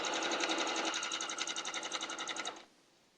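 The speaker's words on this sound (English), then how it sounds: "So I'll sew this last block" A sewing machine stitching a quilt block runs in one steady, close, rapid whirring burst for about two and a half seconds, then stops, leaving a faint hum.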